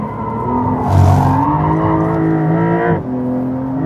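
A Porsche 911 Carrera GTS of the 992 generation, driven hard, its engine note rising and falling under acceleration with a brief swell and a quick drop as the revs change, loud and close with no talking.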